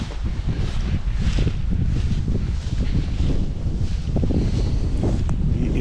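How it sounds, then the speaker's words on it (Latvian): Strong, steady wind roars and buffets the microphone beside a small, shallow river, loud and continuous for several seconds with no voices. "Vējš gan baigais."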